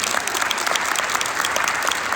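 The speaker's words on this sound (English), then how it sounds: "You can applaud for that, absolutely." Audience at a girls' state basketball finals lunch clapping, a dense, even burst of many hands applauding in a room.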